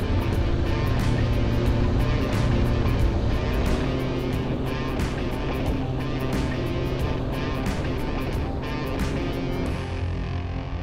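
A Dacia Duster in four-wheel drive with the differential locked climbs a steep mountain slope in second gear, its engine droning steadily and loudly throughout under a constant rush of wind and road noise.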